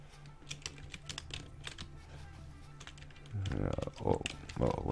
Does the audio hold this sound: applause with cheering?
no